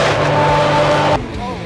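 A Ferrari F50 with a Capristo exhaust revs hard and loud, a sustained high engine note that cuts off abruptly after about a second, leaving a lower idle with faint voices over it.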